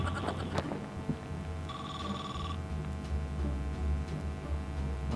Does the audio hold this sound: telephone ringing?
yes